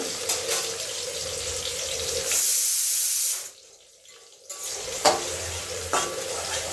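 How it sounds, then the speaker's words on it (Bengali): Close, steady sizzle of onion and tomato frying in a pan, with stirring scrapes and a brief quieter gap midway. "পেঁয়াজ টমেটোটা ভালো করে ভাজা ভাজা হবে, দেখতেই পাচ্ছ।"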